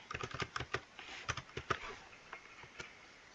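Quick, uneven clicks of a computer keyboard being typed on while working in Excel. The taps come in close, crisp bursts with no talking.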